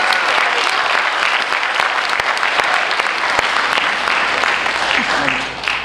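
An audience at a student leadership debate breaks into sustained applause and cheering, dense crowd clapping that fills the room and fades slightly toward the end.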